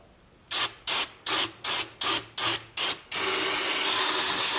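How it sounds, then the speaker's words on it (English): Brake cleaner sprays onto a Jeep JLU axle during a Dana 30 and Dana 44 gear swap, first in eight short rhythmic hissing bursts, then as one long continuous close blast. "I'm gonna go ahead and spray it with brake cleaner"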